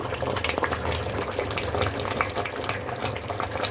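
A pot of egg and chicken sambar bubbles at a steady simmer, with soft, continuous popping and gurgling close by and a faint clink at the very end.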